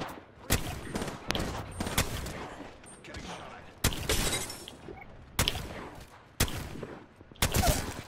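Enemy gunfire in Apex Legends sounds in a string of sharp, loud cracks and short bursts, some lone shots and some clustered, crackling between near and mid distance, while players talk to each other.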